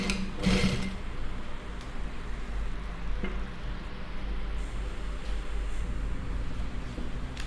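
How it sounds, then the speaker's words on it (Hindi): A sewing machine stitches a neckline on fabric backed with newspaper, giving a soft, steady mechanical whirr with a faint tapping rattle, quiet and continuous. "आराम आराम से मशीन को चलाएं"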